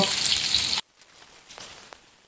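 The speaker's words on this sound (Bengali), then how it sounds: "আমার এক বেশ মাছ ভাজা হয়ে গিয়েছে, এখন আমি উঠিয়ে নিব" Pabda fish fry in hot oil with a loud, bright sizzle that cuts off abruptly after under a second, leaving faint crackles in near quiet.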